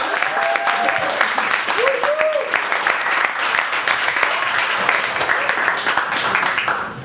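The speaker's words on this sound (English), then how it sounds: "Ladies and gentlemen, please make some noise for our second feature of the night, Leah C. Deschenes." Clapping and cheering from the audience at a spoken word poetry night in New York greet a featured poet, a sustained dense burst that fills the room while a few short voiced calls rise above it.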